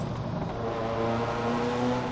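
Loud, continuous engine drone of a Ferrari F40 climbing the winding Col de Turini road, heard close from the car, its tone rising gradually under load with no voices.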